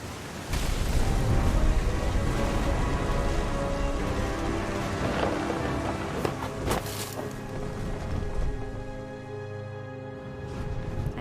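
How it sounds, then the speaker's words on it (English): Heavy rain pours in the video game What Remains of Edith Finch as deep thunder rumbles. The sound is loud and continuous, with a sustained tonal layer and no speech. "thunder sounded much too close and full of angry power."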